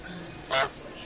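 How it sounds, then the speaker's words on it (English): A single short goose honk sounds out, brief and fairly loud, over low background noise. "It's geese."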